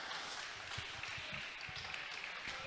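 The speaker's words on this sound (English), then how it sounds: "And a big round of applause" Crowd applause at a Wisconsin high school volleyball match between Neillsville and Assumption, a steady wash of clapping from a gym audience, moderately distant and continuous throughout.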